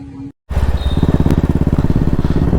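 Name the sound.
Royal Enfield motorcycle engine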